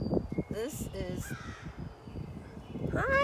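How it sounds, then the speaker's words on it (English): A crow caws several times outdoors, harsh calls rising over steady background noise, while a person speaks nearby. "There's my crow."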